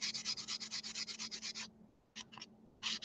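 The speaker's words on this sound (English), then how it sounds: "I'm using a flex shaft" A flex shaft rotary tool sanding and buffing faux gemstones, heard as close, rhythmic bursts of high scratchy grinding over a low steady motor hum, with a brief pause before the bursts resume.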